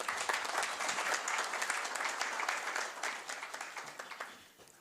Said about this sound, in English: may you please give him a round of applause as he comes through.